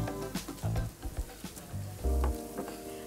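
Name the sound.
onions added to carrots frying in a pan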